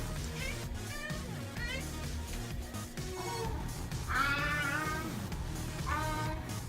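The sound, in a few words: cat meowing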